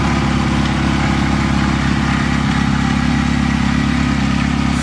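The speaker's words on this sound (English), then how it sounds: "Engine running." A Ferrari 308 engine idles steadily and close by, a continuous low, even rumble with no talking over it.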